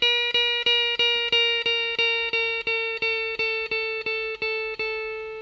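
A steady run of about fifteen evenly spaced plucked electric guitar notes, each ringing briefly with a slight pitch glide from a slowly released string bend, clean and close with no voices.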